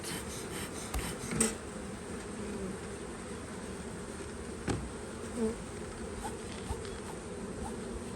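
Honeybees hum at an open beehive, a faint, continuous buzzing drone with a few louder passes of individual bees flying close.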